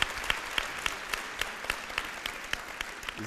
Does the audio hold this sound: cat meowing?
no